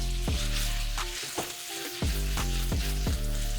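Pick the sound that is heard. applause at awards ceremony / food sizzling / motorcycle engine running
food sizzling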